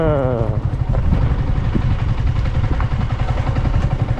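Motorbike engine driven uphill toward a hilltop viewpoint in Yercaud, a steady close rumble with rattling clatter throughout, alone without talk.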